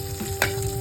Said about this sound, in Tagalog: Igisa po natin ng konti yung bawang.